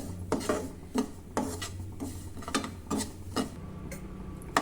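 Semolina is roasted in ghee in a pan while a spoon scrapes and stirs it, giving a series of sharp, rhythmic scraping strokes close up over a low background hum.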